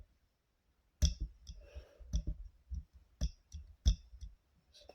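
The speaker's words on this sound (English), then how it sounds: "A little upward click on 5." Sharp, irregular metallic clicks and ticks from pins being picked in a Pl410pro padlock under tension, close and crisp against near silence, some clustered and some spaced apart.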